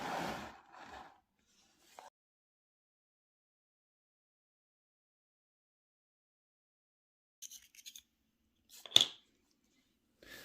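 PCGS graded coin slabs are cracked open. Sparse, brittle plastic snaps, clicks and short scrapes are separated by long stretches of near silence, with the sharpest crack toward the end.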